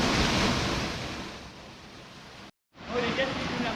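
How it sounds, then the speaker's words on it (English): A waterfall along a backpacking trail in Escalante, a dense continuous rush of falling water close by, briefly cut to silence before resuming just as strongly. "We found another waterfall."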